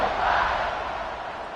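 A stadium crowd roars in a college football video game, a broad, loud, sustained cheer that eases slightly over a second and a half.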